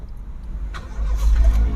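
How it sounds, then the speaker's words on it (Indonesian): A 2014 Honda Brio's engine cranks and catches in one start, settling into a steady low idle that grows slightly louder, heard close with no talking. "kita nyalain, dengar suara mesinnya, bos."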